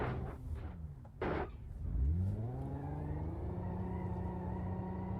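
In the BeamNG.Drive game, a badly damaged car with a climbing oil temperature revs as the gas pedal is pressed. A few short bursts are followed by a rising engine whine that settles into a steady, harmonic drone.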